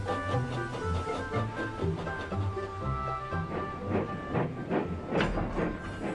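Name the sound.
steam engine Emily hissing and chugging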